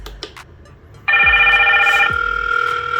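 A Hikvision intercom call rings loud and close as a sustained electronic tone that starts abruptly after a few soft clicks and continues unbroken to the end.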